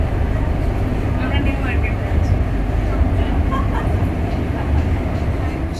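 A nearly empty train rumbles along steadily with a continuous low roar and rattle, with faint indistinct voices in the background.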